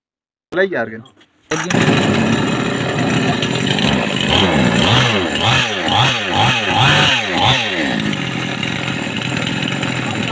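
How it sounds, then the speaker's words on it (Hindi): A repaired chainsaw with a newly replaced ring, piston and cylinder is kicked over with a short sputter, catches and then runs loud and close, its engine note surging and dropping in repeated rev swells. "इसका स्विच जो है इसको ऑन करके अभी जो है इसका किक मार के चेक करते हैं"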